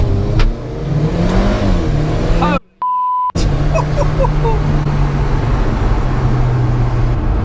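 An Alfa Romeo 4C sports car drives on a narrow country road, its engine droning loudly with a shift in pitch as it accelerates, cut briefly by a tone beep, while people talk over it.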